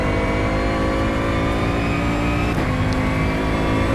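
A GT3 race car's engine drones steadily inside the cockpit in the rFactor 2 racing sim, a loud continuous mid-pitched hum with layered harmonics and a faint high whine, holding nearly constant throughout.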